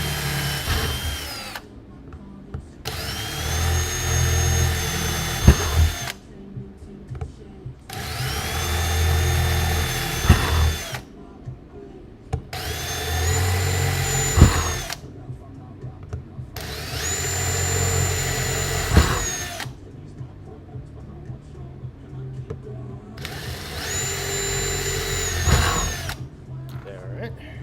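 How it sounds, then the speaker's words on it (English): A power drill bores into wood in six separate bursts of several seconds each, a loud close whine with shifting pitch, separated by short pauses of quiet. "So that's the non-messy drilling"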